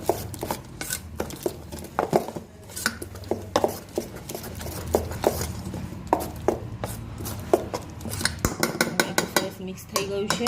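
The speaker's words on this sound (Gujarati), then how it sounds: "આને સરસ મિક્સ કરી દઈશું" Snack batter is mixed in a bowl, with quick repeated clacks and scrapes of a spoon against the bowl, close and lively, with brief faint voices in the background.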